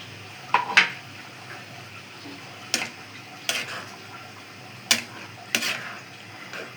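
Utensil stirs spice masala frying in a pan as tomatoes go in for a tengra fish curry, giving a few sharp scraping clatters and a soft sizzle underneath, close and clear with no talking.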